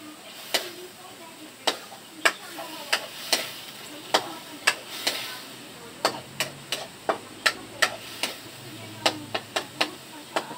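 Ground meat sautéing in a home pan, giving a steady sizzle broken by sharp, regular clicks and scrapes of a utensil against the pan, with a few faint voice traces in the background.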